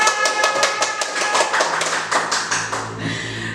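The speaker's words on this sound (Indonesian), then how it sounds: "Tepuk tangan untuk saya" A few people clap in quick, regular strokes after a recited pantun on a regional election podcast, fairly close and crisp, tapering off after about three seconds.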